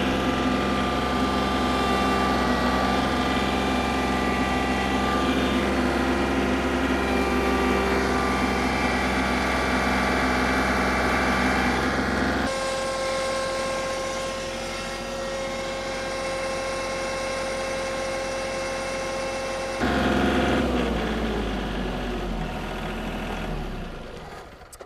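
A compact tractor, John Deere 3032E or Kubota L3301, runs at full revs during a tug of war with the hydrostatic drive loaded, giving a loud steady mechanical drone whose tone shifts at about 12 and 20 seconds.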